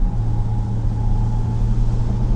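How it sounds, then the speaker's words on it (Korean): A car engine drones steadily as the driver presses the accelerator, running on adaptive cruise control on a highway. A loud, constant low hum and road rumble continue throughout with no talk. "엑셀을 밟는 소리가 들리죠?"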